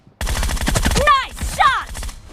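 Gunfire from the mobile battle royale game PUBG, a dense burst of rapid shots with crackling impacts and two bright ricochet-like whines, loud and close, with game voices and effects layered underneath.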